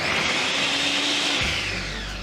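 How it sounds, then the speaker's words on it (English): A blender whirs through pineapple, cardamom and prune for a smoothie, a loud, dense, steady spin that drops abruptly in pitch near the end as the motor winds down, with no talking. "So all of our ingredients are in the blender."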